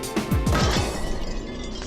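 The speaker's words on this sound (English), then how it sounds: "Windscreens are made of laminated glass, a type of safety glass that holds together when shattered." A laminated safety-glass car windscreen breaking, heard as a loud, close crash followed by a brief, fading ringing crackle of glass, with no voices.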